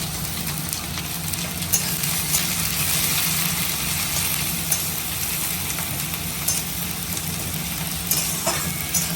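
Chopped green chillies and onions sizzle steadily in a hot pan of tempering oil with dried red chilli, bay leaf and cumin. The frying hiss is continuous and fairly loud, with no talking.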